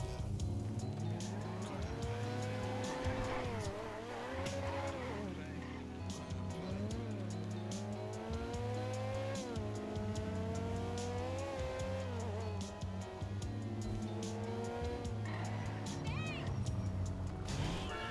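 Car driving in GTA V with squealing tires, engine tones wavering and sliding throughout against a busy game soundtrack, while someone talks over it.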